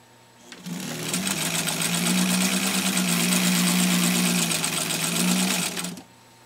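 A 1934 White Rotary 31 sewing machine drives through five layers of upholstery-grade vinyl, a smooth, close motor hum with rapid needle chatter that starts abruptly, holds steady for about five seconds, then stops.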